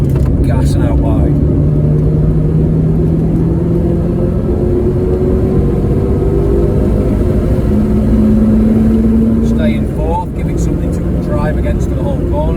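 A car engine rumbles and revs up as it accelerates out of a corner, a steady mid-pitched drone that swells briefly toward the end, heard under continuous talking from a driver.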